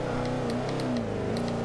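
A 2005 Mercedes-Benz SLR roars at high speed past a Bugatti Veyron in Forza Horizon 2, a steady loud engine drone with a slight pitch shift as the cars pass close.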